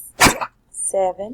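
A dog barks once, sharp and fairly close, then a softer yelp-like sound follows, breaking into a person counting aloud during a home lesson; the talking continues around the barks.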